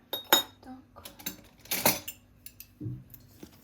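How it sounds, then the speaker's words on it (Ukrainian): A utensil clinks and scrapes against a bowl in a few short bursts of stirring strudel dough ingredients with salt, with quiet pauses between. "Це все перемішуємо трошки."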